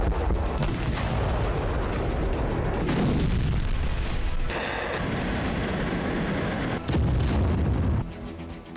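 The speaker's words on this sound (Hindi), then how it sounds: "यहां पर रूसी सेना ने कुछ इस तरह से धमाके" Continuous heavy rumbling with repeated deep booms and blasts, loud and dense, like explosions going off one after another with no pause, from Russian strikes on a Ukrainian airbase.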